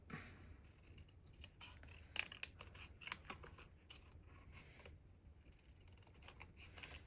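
Scissors snip through paper while cutting out small recycle symbols, a run of close, quiet, irregular crisp cuts and rustles with no talking.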